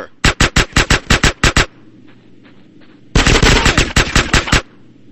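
Automatic gunfire in GTA San Andreas: two loud bursts of rapid, evenly spaced shots, the first about a second and a half long, then a short lull with faint distant pops, then a second dense, sustained burst.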